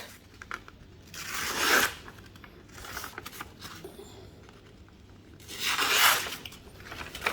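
A Gerber Ultimate fixed-blade survival knife slicing through material, two distinct rasping, tearing cut strokes about four seconds apart over a quiet background.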